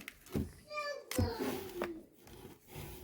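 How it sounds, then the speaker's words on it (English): Children playing a Nerf war in the background, with distant high-pitched kid voices and shouts coming and going, faint and intermittent beneath outdoor garden sounds. "You can hear the kids playing in the background."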